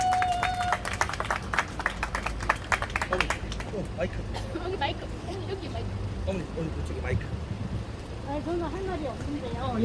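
A small audience at a Korean community meeting with open-floor speeches bursts into a short round of clapping that fades after a few seconds, giving way to people talking over background noise.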